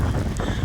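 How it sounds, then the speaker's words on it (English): A loud gust of wind buffets the microphone on a rocky beach, a brief rough rumble of blustery noise with no speech. "Big gust of wind's just come then, hasn't it?"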